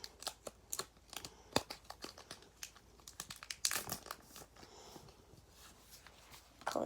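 Plastic packaging crinkles and crackles as a Pokémon card tin, a Giratina and Garchomp Tag Team tin, is opened, with irregular close crumples and sharp snaps spread over several seconds and a brief rustle burst midway, no talking.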